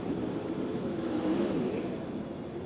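A sprint car on a clay oval track at a night race meeting, its engine a distant, steady roar rising slightly as the throttle opens, heard faintly through a continuous broad rumble.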